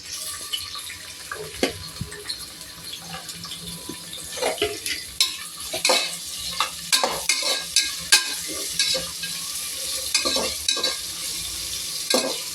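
Onions fry and get stirred in sesame oil in a pan for a mutton dish, the low flame giving a steady sizzle under repeated scraping and clinking utensil strokes, with no voices.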